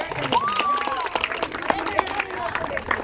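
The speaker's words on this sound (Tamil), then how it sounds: "அனைவரும் கைத்தட்டுங்க." A crowd claps at a 76th Republic Day celebration held by a neighbourhood friends' welfare association in Srinivasapuram, Chennai, with a mix of applause and voices over loud ambient background noise.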